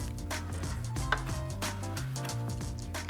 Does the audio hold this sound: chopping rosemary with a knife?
yes